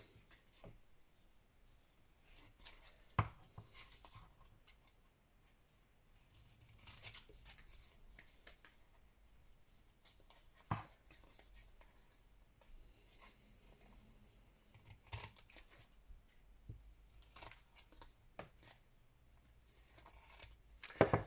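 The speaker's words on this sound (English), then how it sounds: "I'm going to find my little tiny scissors and I'm just going to trim off" Small scissors trim paper for a journal, quiet snips and soft papery rustles scattered irregularly across a long, low-level stretch with occasional sharper cuts close by.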